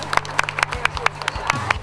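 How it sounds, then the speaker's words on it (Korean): A film crew applauds on the set of the Korean action film A Company Man: scattered, uneven handclaps ring out at intervals over a low steady hum, with people talking underneath. "다들 박수 한번 쳐주지"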